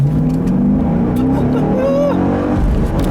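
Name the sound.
2015 Chevrolet SS manual sedan accelerating to high RPM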